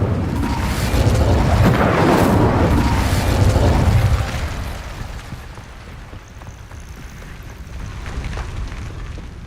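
Incendio fire spell cast in Hogwarts Legacy, a loud rushing burst of flame with a deep rumbling whoosh for about four seconds, then fading to a quieter crackling roar.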